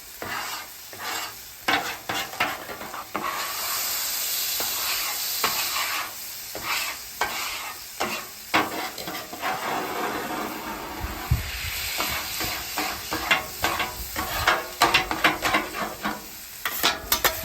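A metal spatula scraping food off a hot Blackstone griddle, with repeated rough scrapes and clacks over a continuous sizzle, close and fairly loud.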